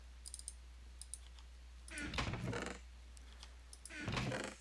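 Typing on a computer keyboard while playing a Minecraft modpack, two short runs of quick clicking keystrokes at close range, with faint scattered clicks between them over a low steady hum.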